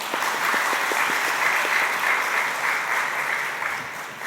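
A church congregation at a Wednesday prayer service applauds women's group members after their hymn, steady clapping from a moderate crowd in a reverberant hall, a few sharper individual claps standing out at first.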